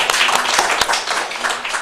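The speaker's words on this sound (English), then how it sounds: "Clap at home, everyone." An audience claps and applauds at a mayor's public update during an award announcement, a dense burst of hand claps with some voices mixed in.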